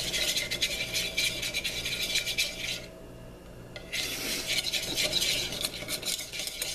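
Caesar salad dressing with lemon and olive oil being mixed in a bowl, heard as a close, continuous rasping scrape and clink of a utensil, pausing briefly midway before resuming.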